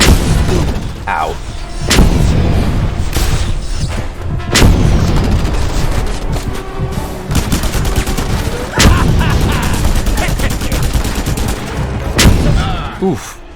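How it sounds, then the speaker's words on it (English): Explosions and gunfire in the video game Just Cause 2: loud, dense, continuous bursts of shots with heavy booms every few seconds, filling the whole stretch close and forceful. "If not for that explosion, I actually would have survived that."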